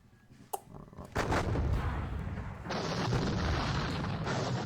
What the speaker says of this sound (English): And so we can have a pot shot with this gun at some